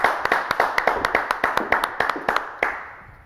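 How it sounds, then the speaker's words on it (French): Clapping at a French variety show, a run of sharp, close, evenly spaced hand claps that slows and fades out after about three seconds. "On les applaudit,"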